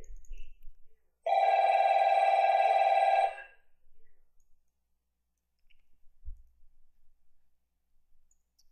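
A single loud telephone ring lasting around two seconds, a bright buzzing electronic tone, then quiet with scattered faint clicks and low thumps afterward.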